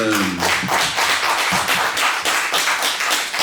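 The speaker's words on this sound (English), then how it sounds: "can we have a round of applause for Verna" A round of applause for author Verna Duncan at a meet-the-author event, steady dense clapping from a small audience filling the whole stretch, close and fairly loud, with a few voices briefly audible at the start.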